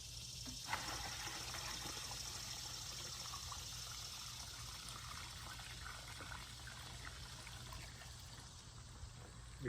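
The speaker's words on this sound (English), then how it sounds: "you can get the water just right at the roots of your plants" Water trickles gently and steadily into the soil at the roots of garden plants, a faint, continuous dribble with no voices.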